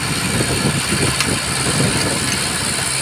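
A tractor engine idles and runs on its own with no driver while it does rotavator work, a steady low rumble close by with no voices.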